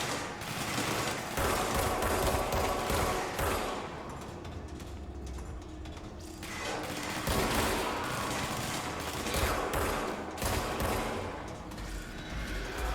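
A weapon in the video game Control fires in long rapid automatic bursts over game noise, dense and loud, with short lulls while it recharges.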